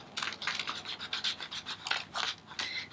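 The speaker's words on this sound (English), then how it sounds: "It's very scratchy under finger because of the gesso that's on there." Finger rubbing paint across a gesso-coated handmade art journal page, a close, dry scratchy rasp in repeated short strokes with a steady back-and-forth rhythm.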